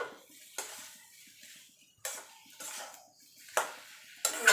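A spoon scrapes and knocks repeatedly against a pan while potato filling is mixed with chopped green chili, producing several distinct metallic strokes at irregular intervals with quiet pauses between them.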